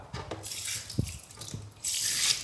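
Yanang leaves being washed in water, with splashing and dripping, small knocks, then a steady rush like running tap water swelling near the end, close and moderately loud with no talking.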